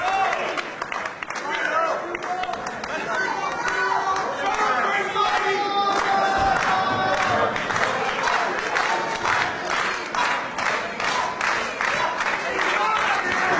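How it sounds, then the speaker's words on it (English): A loud wrestling crowd roars, chants and rallies behind a wrestler during a match, with rhythmic clapping building through the sustained cheering. A commentator's voice talks over the noise. "This crowd trying to rally behind Milano."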